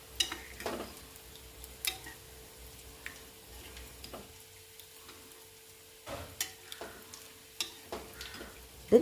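Curd stirred into cooked cucumber for Onam vellari pachadi, heard as intermittent spoon scrapes and taps against the pot, soft and close, with quiet gaps between strokes and a faint steady hum underneath.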